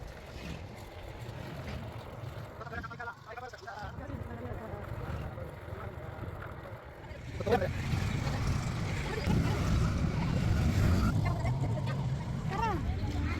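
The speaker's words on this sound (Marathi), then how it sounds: "अजूनही ट्रॅक्टर येत आहेत ट्रॅक्टरमध्ये भाविक येत आहेत" A heavy tractor engine rumbles steadily under people talking, growing louder partway through as a tractor carrying pilgrims draws near, amid large Mahashivratri crowds at Chandreshwar temple hill, Chandwad, Nashik.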